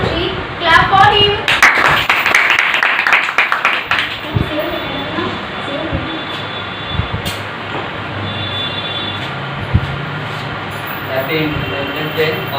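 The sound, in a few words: students clapping at an Independence Day celebration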